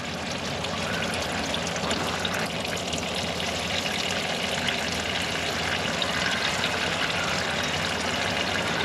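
Transmission fluid drains steadily from the pan of a 2006 Chrysler 300 SRT8, a continuous close-up trickle and splatter with no talk.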